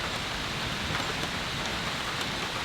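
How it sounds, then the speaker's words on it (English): Steady rain falls hard across a forest campsite, a dense continuous hiss of drops on leaves and surfaces, close and even with no pauses, alone without any voices. "But it's actually raining pretty good"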